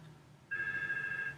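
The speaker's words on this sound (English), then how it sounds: "I can hear that my colleague is now getting a phone call and he's not at his desk" Office desk phone on a colleague's extension on a 3CX phone system, a single short electronic ring burst of under a second starting abruptly, faint and distant in a quiet room.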